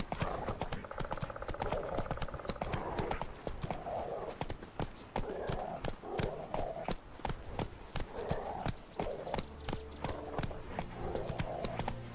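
Galloping horse hooves in a video game, a quick steady clip-clop rhythm running close and continuous throughout, with a brief snort or whinny and some faint game sounds underneath.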